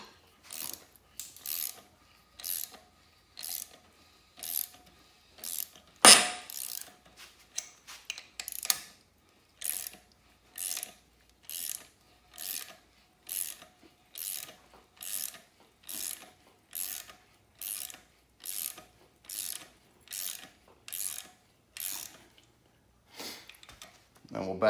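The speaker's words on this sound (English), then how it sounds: "basically you'll just run this one all the way in till it starts pulling the balancer off." A ratcheting puller slowly drawing the harmonic balancer off a 5.3 LS engine, heard as a long, steady series of rhythmic clicking bursts with one sharp metallic knock partway through, close up, with speech in the background.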